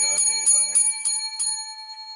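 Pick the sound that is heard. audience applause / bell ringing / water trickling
bell ringing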